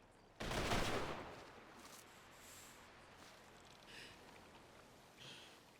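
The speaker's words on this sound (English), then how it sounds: "Ready, aim, fire." A rifle volley is fired on command before a procession: one sharp, loud simultaneous crack that dies away into a long, faint echoing tail.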